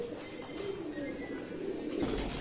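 Pigeons in a loft coo softly in a low, rolling murmur, a continuous faint burble of several birds close by with a slight rise in noise near the end.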